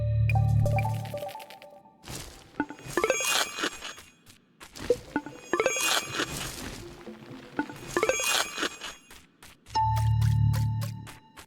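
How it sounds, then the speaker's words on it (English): Cartoonish game sound effects for a mole character in a digging video game, short bursts of squishy, chirpy tones with low thumps at the start and end, repeated in a quick sequence. "Next up is the mole sounds."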